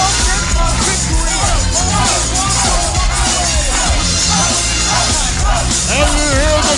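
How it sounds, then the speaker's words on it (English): A wrestling crowd roars at a cage match between Shiloh Jonze and Pope Elijah Burke, a loud, steady wall of cheering and yelling with scattered shouts rising throughout. "And you hear the crowd pump, pump, pump."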